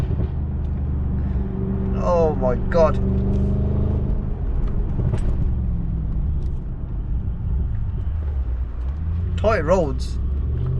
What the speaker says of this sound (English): I've actually forgotten how brutal this car sounds.